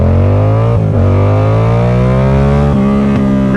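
A motorcycle's loud exhaust revs and pulls on a twisty road, the engine note climbing steadily with brief dips at gear changes, close and dominant with no talk.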